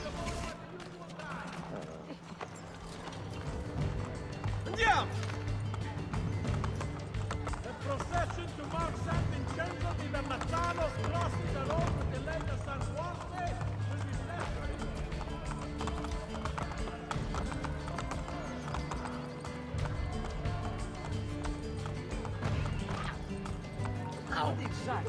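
Horse hooves clip-clop at a gallop in the Assassin's Creed Brotherhood game, with occasional whinnies, a busy continuous rhythm under game music and voices speaking throughout.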